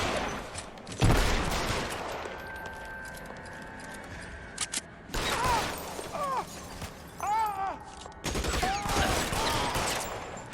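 Gunfire in the 1940s crime game L.A. Noire: a loud shot rings out, followed later by several clustered bursts of shooting. Voices shout between and over the shots.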